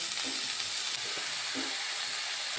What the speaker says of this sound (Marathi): त्यामध्ये भाजी घालूया